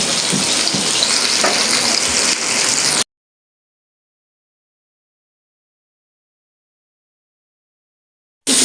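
Hilsa fish fries in a pan with a loud, close, continuous sizzle for about three seconds, then cuts to silence before the sizzle briefly returns.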